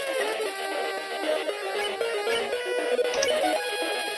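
A chiptune-style phone ringtone from the video game Undertale plays continuously and loudly, a busy, clashing electronic melody with no talk over it.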